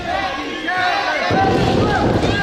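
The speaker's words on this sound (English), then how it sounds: "they've certainly earned all this applause" A wrestling crowd at a PWE grudge match roars and cheers, with a dense wall of crowd noise that swells louder about halfway through, suggesting applause joining the cheering.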